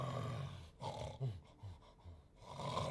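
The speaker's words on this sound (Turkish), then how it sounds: "Beyefendinin horlaması ta öbür taraftan bile duyuluyor." Low, rough snoring breaths from a man come in uneven bursts, quiet and close. No speech.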